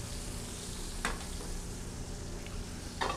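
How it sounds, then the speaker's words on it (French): Zucchini fry in a hot pan for quick browning, a steady soft sizzle with a couple of brief stirring scrapes. "Vous voyez les courgettes, on veut vraiment leur amener une petite coloration"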